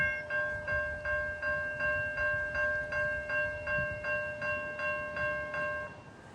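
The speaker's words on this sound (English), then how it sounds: "Gates are going down at 1:35 for train 1213, Hoboken to Waldwick." Warning bells ring at the Ho-Ho-Kus station grade crossing as the gates lower for NJ Transit train 1213, Hoboken to Waldwick, a steady, evenly paced clanging over a low rumble, with no voices.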